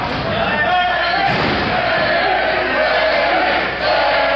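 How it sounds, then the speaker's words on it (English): Wrestling crowd at an independent show in Morehead, Kentucky chanting a wrestler's name, a dense, steady roar of many voices with rhythmic chant pulses throughout. "Larry is really enjoying that chant from the crowd."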